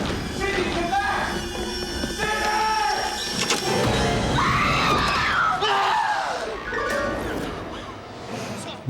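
In a scene from the 1996 horror film Scream, a man lets out long, loud, wavering screams of terror that rise and fall, layered with other shouting voices and film sound.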